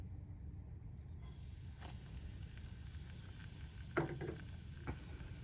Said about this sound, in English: So I'm gonna put this into the oil.